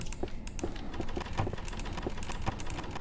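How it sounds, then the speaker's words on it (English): Typing on a computer keyboard, a steady run of quick clicking keystrokes at moderate distance, fairly faint under a constant background hum, without speech. "someone's typing."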